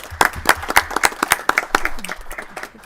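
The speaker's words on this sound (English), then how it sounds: "Members and audience, please let's give a round of applause for being here" Audience applause for a guest at a state Senate Economic Development, Tourism and Labor committee hearing, a burst of sharp handclaps from a modest crowd in a hearing room that thins out and fades over about three seconds.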